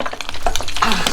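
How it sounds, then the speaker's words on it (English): Very hot oil popping and spitting in a frying pan while pork sisig cooks, a short burst of loud crackling sizzle with sharp irregular pops. "So this is a very dangerous moment where the oil keep popping up."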